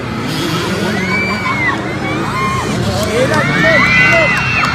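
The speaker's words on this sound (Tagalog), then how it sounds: "Sigawan yung mga tao." Spectators at a Kids Open category race shout and cheer in a steady, loud crowd roar, with scattered higher whoops and children's shouts rising toward the end.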